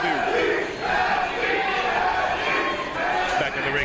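Crowd at a wrestling event in Texas, a sustained roar of shouting and cheering fans that holds at a steady level, with voices mixed into the din.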